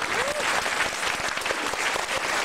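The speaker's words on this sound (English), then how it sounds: "Ladies and gentlemen, please give him another round of applause." An audience gives a performer a dense, steady round of applause at a Chinese New Year event, the clapping continuous and fairly close for the whole stretch.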